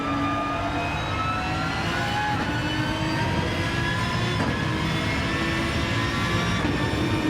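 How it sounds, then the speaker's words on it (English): An Aston Martin race car accelerates down the straight at Suzuka, heard from on board as a loud, continuous engine roar with rising pitch through the gears. "Lovely noise there from the Aston Martin."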